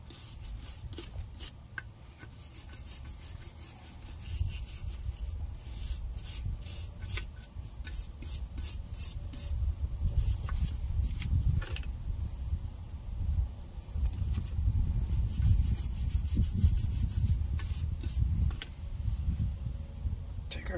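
Brake part on a 2014 Chevy Equinox being scrubbed clean: continuous close rubbing and rasping strokes, uneven in rhythm, growing somewhat heavier in the second half.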